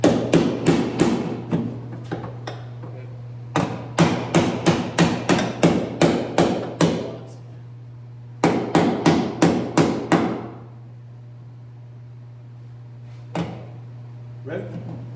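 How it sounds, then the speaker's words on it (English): A hammer smacks metal against a dolly in loud, rapid bursts of sharp ringing blows with pauses between them, and a steady low hum runs underneath. "I'll smack it with this hammer."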